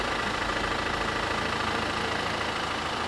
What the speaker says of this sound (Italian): Quel suono quando è acceso il motore.